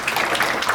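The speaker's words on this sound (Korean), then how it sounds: "박수 한번 주십시오" Applause breaks out at a policy forum on e-book accessibility when a presenter finishes, a brief, dense clatter of many hands clapping together in a room.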